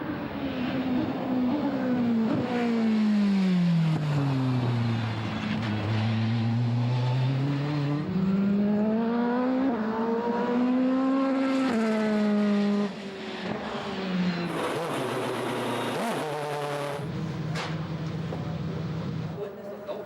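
A Racing CLK race car with a 4-litre V8 engine roars loudly and continuously, its pitch rising and falling through gear changes, with a voice talking over it throughout.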